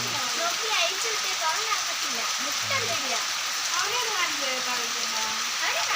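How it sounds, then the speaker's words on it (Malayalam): Summer rain falling steadily outdoors among trees, a dense continuous hiss of drops that stays even throughout, with birds chirping faintly in the background. "ഇവിടുത്തെ മഴ അല്ലേ നോക്കി നിൽക്കുന്നതാണ്"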